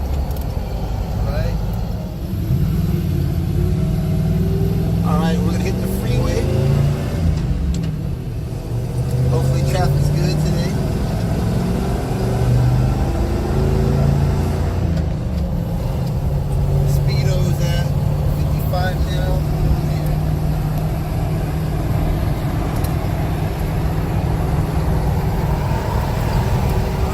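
A 1985 Jeep CJ7 cruising on the freeway, its engine drone and road rumble steady and loud throughout, with wind noise and occasional passing traffic and a voice speaking over it.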